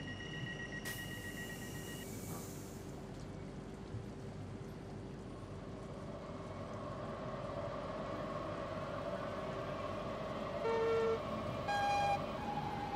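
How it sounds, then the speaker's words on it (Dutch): Train horns from Train Simulator 2014 on a Dutch DDZ double-deck train on the Midden Nederland route: steady tones come in around the midpoint, then two short louder horn blasts near the end over continuous engine and rain-like noise. "En de twee leuke toetertjes die erbij geleverd zijn."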